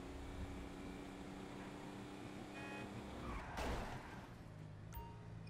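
Car engine in GTA 5 driven through city streets, a steady mid-distance motor drone with a brief whoosh and rising surge near the end, no talking.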